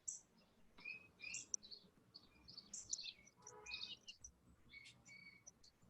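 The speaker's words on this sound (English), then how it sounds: "I hear birds. I hear birds singing." Birds chirp and trill continuously at a distance, high bright calls overlapping softly against a quiet background.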